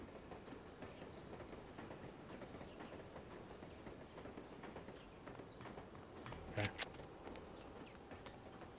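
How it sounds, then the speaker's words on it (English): A train rumbles in the video game The Operative: No One Lives Forever, with a steady rhythmic clickety-clack of wheels on rails and a brief louder clunk near the end. "It's still making train noises."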